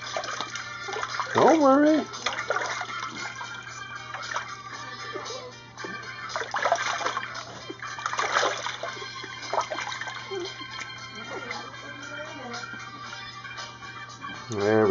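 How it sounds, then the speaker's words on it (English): Running water rinses a Boston Terrier puppy in its first bath, a steady splashing and pouring close by, with a person talking over it throughout. "let's do a little rinse"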